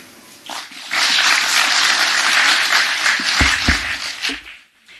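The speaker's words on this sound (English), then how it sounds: "Let's give His Excellency another round of applause as he takes his seat." Audience applause for the Deputy President after his remarks at a security meeting on drugs in Mount Kenya, a broad wash of clapping swelling in after a second, holding steady, then fading out near the end.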